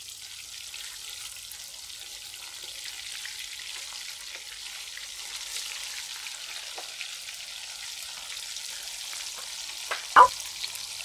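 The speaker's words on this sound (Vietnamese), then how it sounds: "Bây giờ cái khâu kế tiếp là mình sẽ chiên đậu hũ tươi nè các bạn, mình chiên cho nó giòn." Fresh tofu frying in hot oil until crispy and golden for a vegetarian dish, a soft steady sizzle with a brief louder clatter near the end, no voices.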